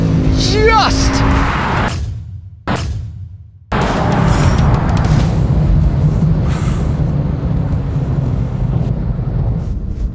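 A 2025 BMW M5 pulls hard under acceleration while racing a BMW F90, its loud engine roar continuing over rushing road and wind noise after a brief cut, with a person talking excitedly throughout.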